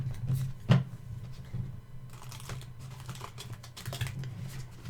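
Side shuffling a Star Trek: The Next Generation tarot card deck by hand, giving soft, rapid clicking and riffling bursts that repeat fairly close, with a low hum underneath and no talking.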